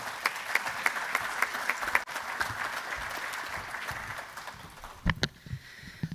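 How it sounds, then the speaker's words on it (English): A conservation forum audience at a regional summer meeting applauds steadily for several seconds. The clapping stays moderately loud, then thins into a few scattered, louder claps near the end. "please give me a round of applause for these individuals"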